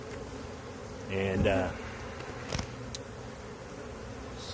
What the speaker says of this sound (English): Got a few bees left down in there.